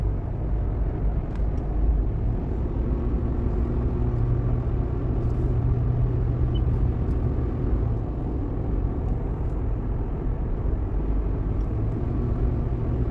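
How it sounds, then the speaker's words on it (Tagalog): Road traffic on a highway near Seattle heard from inside a moving vehicle, a continuous low rumble of engines and tyres with a steady wash of road noise, no voices. "Ang bibilis ng pagtakbo ng mga sasakyan nila."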